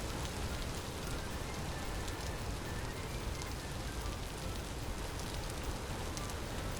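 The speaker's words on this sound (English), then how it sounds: "The fog is gone, the rain persists." Rain falls steadily in a dense, even hiss of drops, constant and moderately loud with no pauses and no voices.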